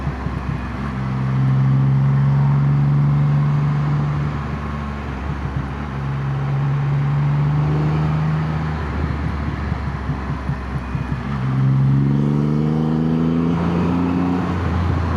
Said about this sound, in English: The sound of this intake is just mesmerizing.